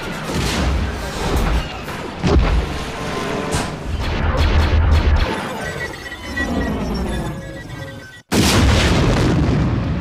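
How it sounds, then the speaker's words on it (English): Explosions from a Star Wars film crash and boom in a dense, loud, continuous roar of blasts and rumbling debris, cutting out abruptly for an instant before surging back at full force. "all the explosions in these later movies are so cool"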